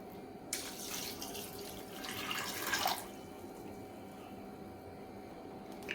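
Water poured from a glass into a pressure cooker holding black peas and potato: a soft splashing pour lasting a couple of seconds over a quiet room background.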